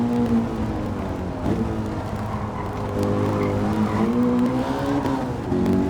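Race car engine drones steadily at close range through a Gran Turismo-style Laguna Seca club race against a Corvette, with rising gear pitches and squealing tires layered over the continuous roar.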